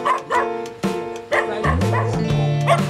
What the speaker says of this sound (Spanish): Mira, hay un montón de perros.